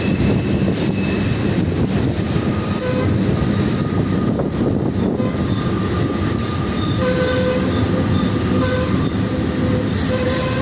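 A freight train rounding a curve near a river on the Klamath Falls to Roseville line, rumbling steadily close by while wheel squeals ring out in sustained high tones, with no talking.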